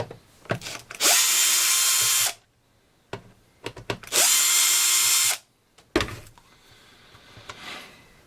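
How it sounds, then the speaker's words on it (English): A power drill backs screws out of a ResMed CPAP machine, two loud sustained whirring bursts of about a second each, separated by small clicks and handling clatter close by. "A couple more screws here."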